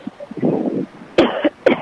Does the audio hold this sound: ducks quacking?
no